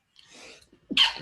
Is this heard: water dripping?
no